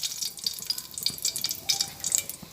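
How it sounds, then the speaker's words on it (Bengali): Nigella seeds and a halved dried red chilli frying in hot oil, giving a light, crackly sizzle with small popping spits, close and moderately loud. "কিছুটা পরিমাণে কালো জিরে দিয়ে দিলাম আর একটা শুকনো লঙ্কাকে দুটো খণ্ড করে দিয়ে দিলাম সঙ্গে ভালোভাবে এটা ভেজে নিচ্ছি"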